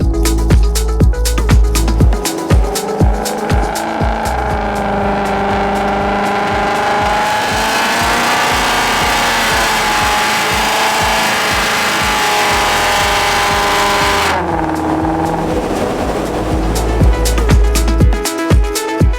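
A supercharged Ford Mustang GT held at full throttle on a dyno in a steady-state test between 2,000 and 4,000 RPM, giving a loud, sustained engine roar with supercharger whine that climbs and holds, broken by clattering idle bursts at start and end.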